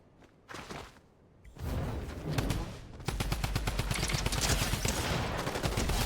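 Drum gun in the video game Fortnite unloads in loud, rapid automatic bursts, dense continuous chatter of shots filling the second half after a few whooshes and scattered movement sounds.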